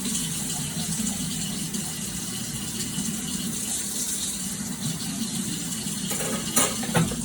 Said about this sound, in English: Your knife gets a little chocolate. Just wash it off.